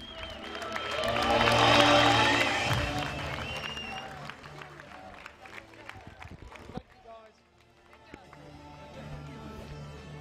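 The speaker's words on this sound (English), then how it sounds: "Ladies and gentlemen, a big round of applause." A crowd applauds and cheers world champions at a senior world championship mixed relay ceremony, a loud swell of clapping that peaks early then fades, with an announcer's voice over it.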